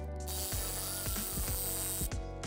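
Ratchet wrench clicking as it turns on the rear hub nut of a Toyota MR2 Spyder during a knuckle and wheel bearing rebuild; several close, loud bursts of ratcheting pawl clicks over a steady background hum, with no talk.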